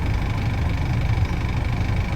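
A used Isuzu NKR four-wheel truck with its 88 hp 4JB1 engine idles in a steady, close, low rumble with a faint vibrating buzz, constant and uninterrupted.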